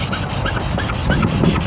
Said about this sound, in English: And I'm gonna sand this down pretty good.